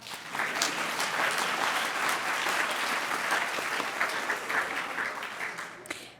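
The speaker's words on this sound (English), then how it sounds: "we're supposed to applaud here" Sustained applause from an audience at an alumni awards ceremony, steady clapping for about six seconds before it fades out at the end.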